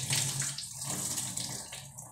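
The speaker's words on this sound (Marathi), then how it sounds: "पुन्हा एका पाण्याने त्याला आपण धुवून घेऊ." Water pours and splashes steadily while soaked rice is rinsed in fresh water to make rice flour; a close, continuous running-water sound with no talking.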